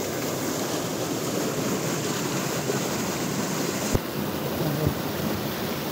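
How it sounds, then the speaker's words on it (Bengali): Water pouring out of a river barrage, a loud continuous roar of rushing water heard from nearby, broad and steady with a couple of brief low thumps. "এদিকে ব্যারেজের জল পড়ছে, বেরোচ্ছে,"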